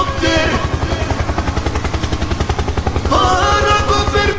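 A helicopter in a video game thumps with steady rapid rotor pulses, loud and continuous, with layered game sounds over it and brief shouts.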